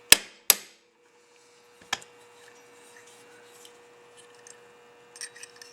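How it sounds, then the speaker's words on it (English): Metal parts clack as a new aluminum plug is pressed in on a Carter M2413S gun part held in a vise, with two sharp close knocks, a third click, and then faint small handling clicks. "Press in that new aluminum plug."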